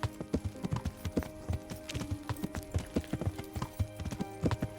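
Rhythmic hoof clip-clops from a horse in Kingdom Come: Deliverance, steady and fairly close, with a brief whinny-like tone, over faint game-like ambience.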